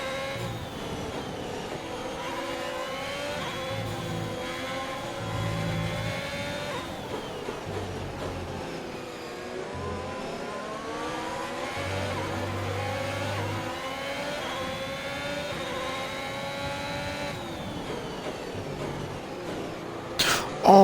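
A Formula 1 race car engine in the F1 2021 video game drones continuously at high revs, its pitch rising and falling through gear changes across the run, steady and fairly loud, with a brief knock near the end.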